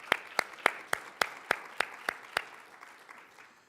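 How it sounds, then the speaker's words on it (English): Crisp, evenly spaced claps at a 2024 43North semi-finals event welcoming judges, about nine sharp hits close by, thin rather than a full crowd, tapering off toward the end. "Let's give each one of them a round of applause as I call them out."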